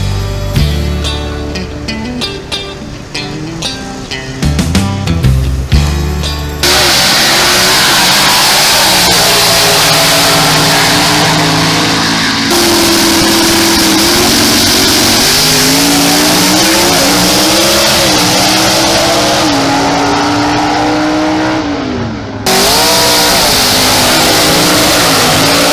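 Race car engines rev hard and roar continuously around the track at a motorsport event, with loud sustained drone, shifting pitch sweeps and occasional tire squeal, close and dominant throughout.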